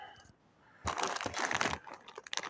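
A plastic bag of electronic components is handled and unpacked, giving loud, close crinkling and rustling in a steady burst of about a second, with faint background sounds before it.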